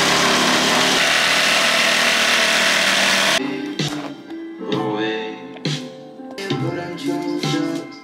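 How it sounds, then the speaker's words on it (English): Jigsaw making a straight cut along a temporarily screwed-on guide during a catamaran refit, a loud buzzing saw roar for about three seconds that stops abruptly, followed by clattering and knocking sounds. "So the jigsaw can just rest on here and get a nice straight cut."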